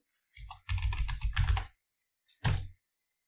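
A password is typed on a computer keyboard in quick bursts of close, crisp key clicks, one longer run followed by a pause and a short final cluster like the Enter key.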